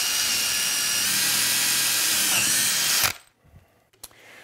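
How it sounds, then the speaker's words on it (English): A power drill bores 5/16 inch holes through wood for an enclosure, a loud, steady high-pitched whine for about three seconds, then stopping abruptly and leaving near silence with a few small knocks. "I'm going to drill these holes like this in all four corners."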